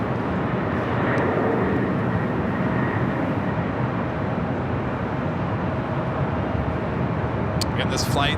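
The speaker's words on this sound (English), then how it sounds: "this flight heading to JFK, it's a 767-400ER" A Boeing 767-400ER airliner at LAX airport roars steadily throughout, a loud, continuous broadband jet engine rumble, probably taking off or taxiing past nearby.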